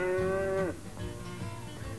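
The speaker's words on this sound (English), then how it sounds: "8 legs on 2 cows." Two cows in a children's animated story give a single loud, drawn-out moo that falls away in pitch, followed by quieter farmyard rumbling.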